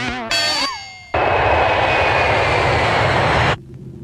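Airplane engine in a movie scene, a loud steady broadband roar that starts abruptly after a brief tonal musical sting and holds for over two seconds before cutting off, leaving a low rumble.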